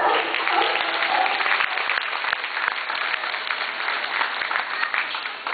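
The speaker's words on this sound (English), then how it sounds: "You guys can clap for Surfer." A crowd applauds continuously at a sea lion show, a dense spatter of many hands clapping at moderate volume that holds steady for several seconds.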